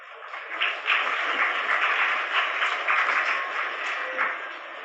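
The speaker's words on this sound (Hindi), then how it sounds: "ताली तो बजा रहे हो।" A live audience claps steadily and densely throughout a Hindu religious discourse (Bhagwat katha) gathering, sustained applause with no break and no speech on top.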